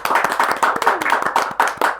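A small crowd claps at a talk with a futsal referee, a brisk run of close, sharp handclaps in an uneven rhythm lasting a couple of seconds.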